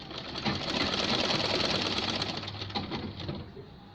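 A sewing machine stitches gloves in a steady, fast run of needle strokes, loud and close, with a brief slowing toward the end and no talk over it.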